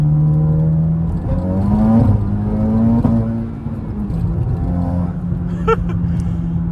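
A Honda Civic Type R accelerates hard, its engine note climbing in pitch through a quick pull with a shift and further revving, loud and close from inside the car.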